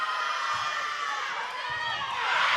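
Spectators cheer loudly and steadily at a high school volleyball match in the fifth set, the crowd noise swelling toward the end with voices mixed throughout.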